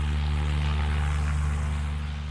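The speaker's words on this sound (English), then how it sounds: "a light plane is preparing to take off with pilot Ivor Yockney at the helm." A light propeller plane at an airfield near Christchurch, New Zealand, runs its engine before takeoff, a loud, steady, close droning hum with no voices.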